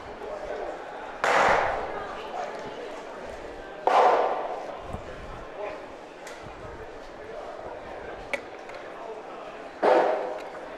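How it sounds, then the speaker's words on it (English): Bocce balls slam into a court backboard at the 2024 World Series of Bocce, giving three loud, explosion-like thuds spaced several seconds apart over a steady, noisy outdoor background. "If you hear anything that sounds like an explosion in the microphone, it's just the backboard from the court behind us"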